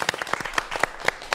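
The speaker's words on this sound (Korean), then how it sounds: "박수 부탁드리겠습니다." An audience at a Korean public science lecture about space applauds, a burst of many hands clapping in quick irregular slaps, fairly close and loud, with no one speaking over it.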